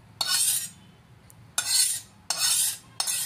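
Besan mixture stirred into semolina and sugar in a pan, giving three close, loud raspy scraping strokes with brief quiet gaps between them.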